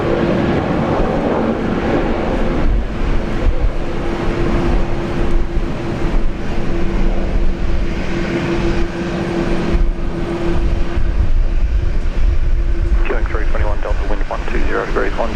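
A China Southern Airbus A350 bound for Guangzhou takes off at Brisbane International Airport, giving a steady, loud broadband jet roar with a sustained tonal whine throughout. Faint voices come in near the end.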